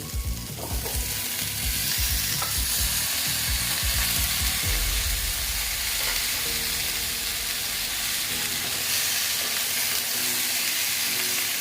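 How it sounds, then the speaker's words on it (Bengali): Moringa drumsticks sizzle and fry in a pan for a vegetarian dish, with a steady, close hiss of hot oil and occasional stirring clatters early on, no voices. "দেখো আমার মোটামুটি এগুলো ভাজা হয়ে গেছে এবার আমি সাজনাগুলো দিয়ে দিচ্ছি"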